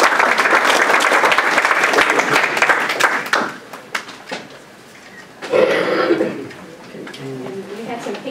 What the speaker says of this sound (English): let's give all those folks a round of applause.